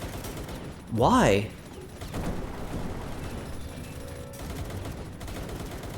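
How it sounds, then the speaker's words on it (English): Gunfire rings out as Syndicate gunners shoot at each other in a video game: a dense, steady rattle of shots runs throughout, while a voice briefly speaks near the start. "It looks like they're shooting each other."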